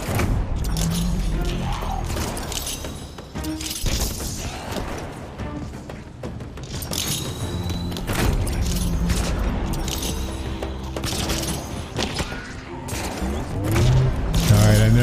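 Repeated grenade blasts and gunfire in a combat video game, with booming thuds and crashes scattered through a dense, busy mix of game sounds and a speaking voice.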